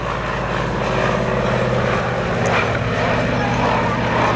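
Loud, steady propeller-engine drone from an airplane at an airshow, holding a constant pitch throughout.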